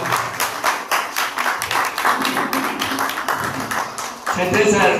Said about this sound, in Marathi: जोरदार टाळ्या जोरदार